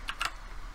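Keys on a computer keyboard are struck in a short, quick burst of close, crisp taps, two or three distinct clicks over a faint room hum, with no voices.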